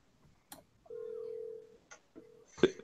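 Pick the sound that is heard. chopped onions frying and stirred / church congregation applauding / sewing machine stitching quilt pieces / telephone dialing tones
telephone dialing tones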